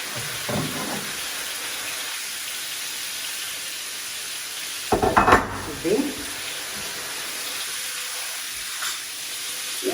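Oyster mushrooms frying in a pan keep up a steady sizzle and hiss, with a couple of louder scraping stirs in the middle and a soft voice briefly at the start.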